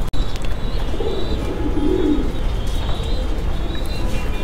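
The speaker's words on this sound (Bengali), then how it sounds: "তো আরও কিছু কবুতর আছে সেগুলো দেখবো।" Magpie pigeons coo in a loft, a low murmuring rumble of several birds close by, with faint chirps and steady background noise and no talking.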